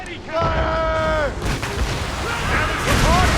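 Ship cannons boom in a naval battle in Assassin's Creed Rogue, heavy rolling blasts and rumble layered with shouted crew commands and game music.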